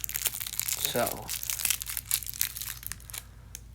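Crinkly plastic candy wrapper being crushed and fiddled with while trying to open a mystery chewy fruity candy, loud close rustling and crackling bursts throughout, with a person talking briefly over it.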